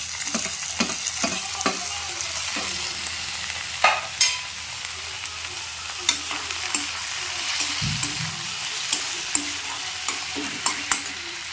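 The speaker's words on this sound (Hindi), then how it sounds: "ଏବେ ଦେଖନ୍ତୁ ପିଆଜ ଆମର ଭାଜି ହେଇଗଲାଣି ଭଲସେ" Onions frying in a pan for dhaba-style egg tadka as tomatoes are added, with soft steady sizzling under repeated stirring and scraping clicks of a spoon against the pan.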